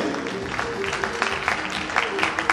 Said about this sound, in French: Mesdames et messieurs, merci d'applaudir pour Exaucé